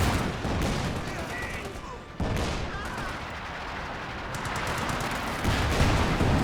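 Artillery barrage in Company of Heroes 2, a dense rolling series of booms and crackling gunfire with one abrupt break partway through, loud and continuous and layered under game battle noise.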